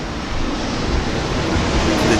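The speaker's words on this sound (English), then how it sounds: "There's an airplane going over the house." A jet airplane passes over a house as a steady, loud, broadband roar that fills the whole stretch evenly and swells slightly toward the end, mixed with outdoor air conditioner noise.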